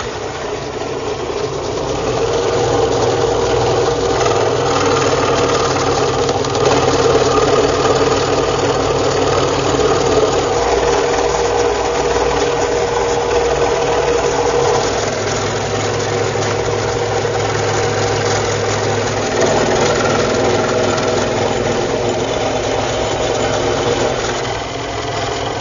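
A scroll saw with a 20-inch throat cuts slowly through wood, a loud continuous buzzing drone with a rapid reciprocating chatter that shifts slightly as the feed changes.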